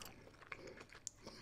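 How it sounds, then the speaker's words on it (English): Close, quiet chewing of vegan food in ASMR style, with a few soft crunchy bites and faint mouth clicks standing out over a low background, no talking. "Listen to me chew."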